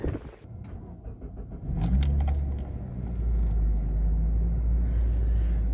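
A car with its check engine light on, fuel tank full, drives along the road, its engine rumbling steadily and rising in a low drone after a brief pickup, with no talk.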